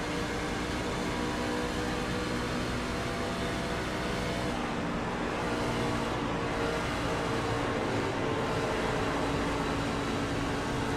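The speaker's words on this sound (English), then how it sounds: "Listen to the tires here" Race car tires scrubbing through the turns at Charlotte in iRacing, a steady broadband roar of engine and tire noise holding constant and loud throughout, with no talk.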